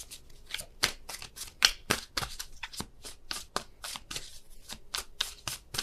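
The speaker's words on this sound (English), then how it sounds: "There's still a ton of cards coming out." Tarot cards are shuffled continuously by hand during a love reading, giving a steady run of crisp, riffling bursts up close, loud and alone with no talking.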